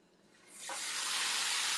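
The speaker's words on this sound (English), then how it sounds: "Ooh, heard that sizzle." Chicken with bell peppers and onions hits a hot pan, bursting into a loud, steady hiss that swells up after a quiet start and holds strong to the end.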